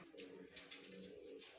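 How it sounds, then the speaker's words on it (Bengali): White Mayurpankhi pigeons coo softly in a low, faint murmur over a steady high hiss, a brief continuous sound without voices. "সুন্দর কোয়ালিটির পায়রাগুলো"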